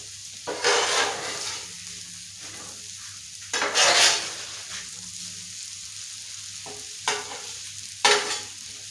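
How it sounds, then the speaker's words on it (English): Onions sizzle steadily in a hot pan while a utensil scrapes and stirs them in several separate bursts, each a loud scraping rush over the constant frying hiss. "Ooh, that onion looking good. Getting ready to stir them."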